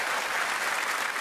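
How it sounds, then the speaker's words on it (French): Audience applause on a French TV variety show greets ventriloquist Jeff Panacloc and his puppet Jean-Luc: dense, steady clapping from a large crowd, loud and continuous throughout with no voices. "On les applaudit d'un fort."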